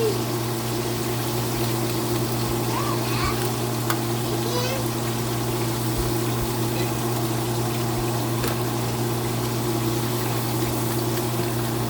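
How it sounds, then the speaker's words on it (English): Chicken pieces fry in hot oil with a steady, dense sizzle and crackle that holds at an even level throughout, with a low hum beneath. "It's frying so good"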